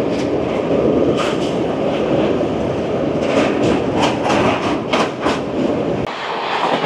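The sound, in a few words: Amrit Bharat Express train running on the rails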